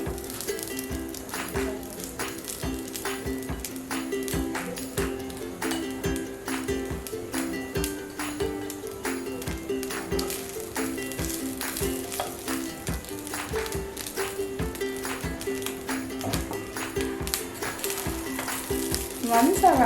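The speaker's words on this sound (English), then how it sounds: "Now I'm adding the rice." Rice stir-frying with sweetcorn in a hot pan on high flame, a steady, close crackling sizzle with rhythmic scraping stirs throughout.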